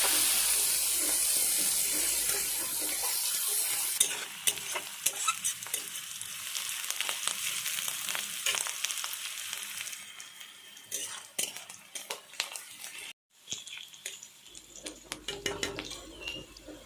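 Chopped onions and whole cumin frying in oil hiss loudly at first, then settle into a closer crackling sizzle broken by spoon scrapes and pan clatter, with a short break near the end.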